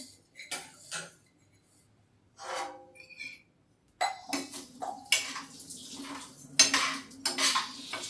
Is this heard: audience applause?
no